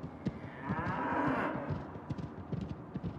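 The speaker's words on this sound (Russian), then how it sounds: "Мы откроем загон и выпустим всех коровок. Бегите, мои родные, бегите." Cows in a video game moo as they are let out of a pen: one long, loud bovine moo mid-clip, surrounded by shuffling hooves and scattered thuds of the herd moving off.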